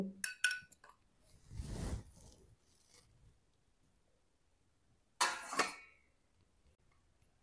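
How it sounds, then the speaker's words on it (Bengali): Drained, dried flattened rice is tipped into a bowl in a kitchen. Brief clinks of a utensil come first, then a soft rushing pour, and later a second short scraping tumble. "এখন একটা পাত্রে ঢেলে নেব।"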